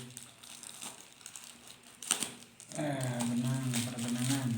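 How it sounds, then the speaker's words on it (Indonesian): Packaging for sewing supplies crinkles and rustles in close, irregular bursts during unboxing, with louder handling noise toward the end. "unboxing alat-alat jahit,"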